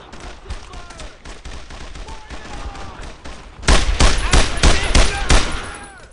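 Heavy sustained gunfire aimed at a machine-gun position in the World War II shooter Brothers in Arms, rapid overlapping shots at moderate level that swell into loud, dense, close bursts over the final seconds.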